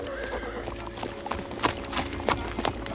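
Horse hooves clop steadily on hard ground while a horse lets out a whinny, loud and close, with other faint movement around.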